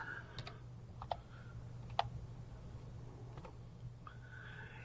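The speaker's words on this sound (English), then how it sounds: "I type in Ballantyne's" Someone types a search term on a computer keyboard, producing a few quiet, sparse keystrokes and clicks in a hushed room.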